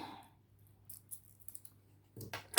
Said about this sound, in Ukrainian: думаю, що справлюсь манікюрними ножничками